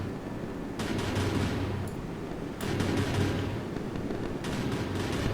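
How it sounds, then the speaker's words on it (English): Naval ship guns fire in the Sea Power naval combat game: several booming bursts of rapid blasts at intervals over a rumbling low background, loud and without speech. "Wow, those guns sound really cool."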